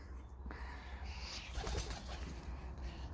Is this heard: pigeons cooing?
yes